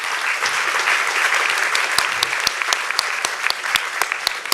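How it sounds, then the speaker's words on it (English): An audience claps steadily throughout, a dense wash of applause with sharp individual claps standing out, at a film Q&A event. "could we just have a round of applause to thank Barbara Dabkey?"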